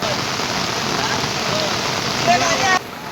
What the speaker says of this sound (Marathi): पूर्ण रत्नागिरीमध्ये पाऊस पडतो